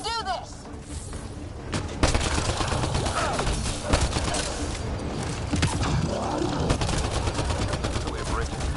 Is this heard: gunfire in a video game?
yes